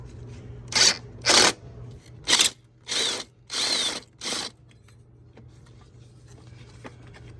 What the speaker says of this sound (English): use a 10mm socket with the impact drill to loosen up these two bottom bolts